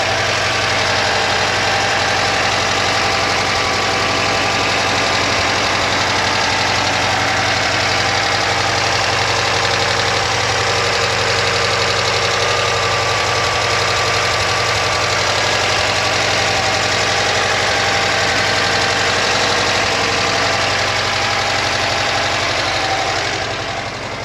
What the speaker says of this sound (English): It is a genuinely smooth running, lovely little engine.